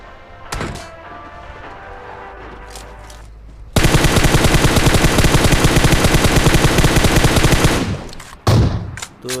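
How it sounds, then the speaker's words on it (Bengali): Automatic gunfire in a battle-royale squad shooter rattles out in one loud, rapid sustained burst lasting several seconds, with a few scattered shots and thumps before and after. "তখনই দেখো পিছন দিয়ে একটা ফায়ার দেয়"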